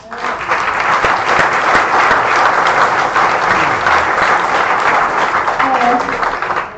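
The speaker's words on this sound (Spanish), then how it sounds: "Agradecemos a señora Neira con este fuerte aplauso" Loud, sustained applause from a conference audience, dense continuous clapping filling the room with faint voices mixed in.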